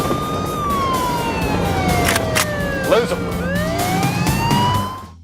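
Police siren wailing and sweeping in pitch, close and loud, over a road vehicle's engine and traffic noise, with a voice speaking briefly in the middle.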